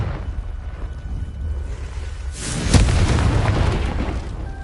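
A Confringo spell blast in a Harry Potter video game, a sudden loud burst near the middle followed by a sustained roaring rumble, over a steady low background hum.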